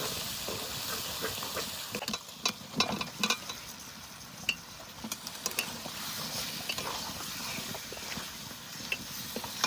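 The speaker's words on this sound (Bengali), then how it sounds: "আলুগুলো একটু কষিয়ে নিয়েছি" Potatoes for aloo dum sauté in spiced oil in a village kitchen, a soft continuous sizzle broken by scraping stirs from a spoon against the pan. The sounds are close and fairly quiet, with no talking.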